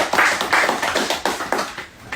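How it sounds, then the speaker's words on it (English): Live studio audience clapping to welcome a guest home, a dense burst of hand claps rising and falling in loose waves, close and fairly loud, with no voices over it. "let's give a applause for that"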